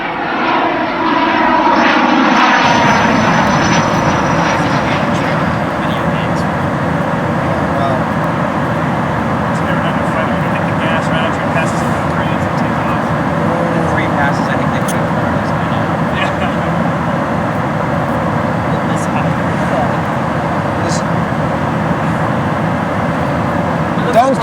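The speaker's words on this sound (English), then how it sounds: "All right, enough playing around with the jet." Low pass of a jet over a farm: a loud, sustained engine roar that swells in over the first seconds and then holds steady and close, with a few faint voices underneath.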